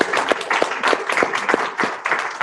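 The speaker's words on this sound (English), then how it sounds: "So round of applause for the questions" A live audience at a science communication competition final claps steadily in dense applause, fairly loud and sustained without speech.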